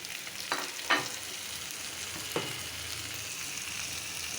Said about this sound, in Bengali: আমি ছোট চিংড়ি এতে কাঁচামরিচ আদা রসুন পেস্ট হলুদ মরিচ ধনিয়া পাউডার লবণ টমেটো কাটা দিয়ে দিচ্ছি